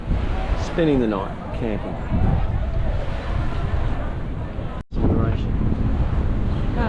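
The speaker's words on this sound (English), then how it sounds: "it's very windy" Steady, strong wind roars and buffets the microphone beside a lake in New Zealand's deep south, with boats moored nearby. A person talks over the gusts throughout.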